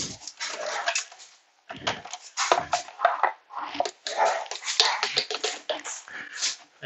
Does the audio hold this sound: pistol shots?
no